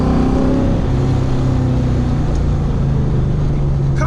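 A 470 wheel-horsepower Coyote V8 swapped into a small Fox Body Mustang drones steadily from inside while driving, a low continuous engine note holding at near-constant revs throughout.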